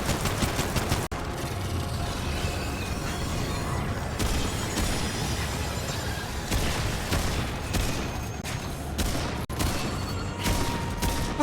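Constant gunfire and blasts from a boss fight against Sha' Hala, Spectral Guardian of N'Erud, in Remnant 2, a dense, loud barrage of shots and booms running throughout, with sharp impacts punctuating it.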